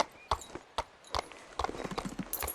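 A horse's hooves clip-clop while being ridden in the video game Equinox Homecoming, sparse single beats at first, then quickening into a denser trotting rhythm, close and crisp.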